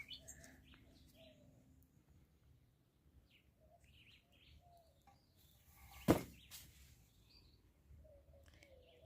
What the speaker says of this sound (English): Guys, the birds are out in their numbers.